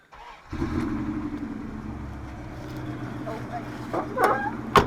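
A 1994 Dodge Dakota's 5.2 V8 cranks and catches after an injector replacement: a short silence, then an abrupt start settling into a close, rumbling idle that swells slightly near the end.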